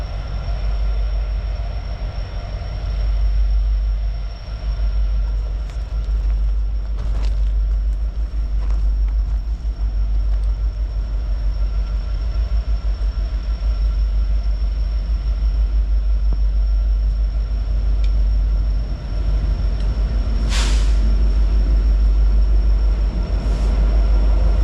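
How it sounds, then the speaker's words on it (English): Ferromex freight train passing near Guadalajara, Mexico, a loud sustained rumble with rhythmic wheel clatter and rail noise throughout, plus a sharp screech or horn-like burst near the end. "here comes a train from Mexico"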